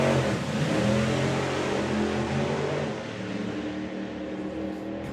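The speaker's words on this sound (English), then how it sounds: "Couple of stabs at the throttle off the line." A drag racing altered car on the start line at Santa Pod Raceway roars with loud, rough engine revs and a couple of throttle stabs, dense and continuous before easing slightly.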